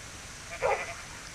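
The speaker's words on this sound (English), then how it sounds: "Their barking is driving me up the wall as well." A single short dog bark in the video game Minecraft, moderately close and clear against a quiet background.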